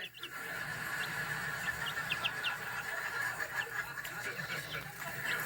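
Chickens cluck softly in a backyard coop, with scattered short clucks and chirps over a constant background hiss.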